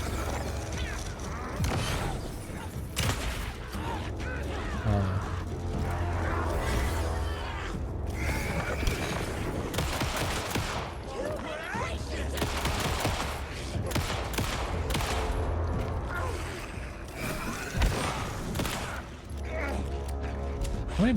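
Rapid, loud gunfire bursts in Alan Wake II, shotgun blasts mixed with heavy impacts and clanking mechanisms crowding one another continuously through the whole fight.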